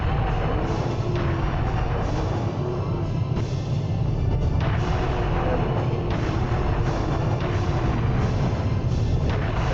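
Cannon fire and heavy combat in the video game Serious Sam: The First Encounter, a dense continuous barrage of booming blasts and thuds layered over loud rumbling game noise, with no pauses.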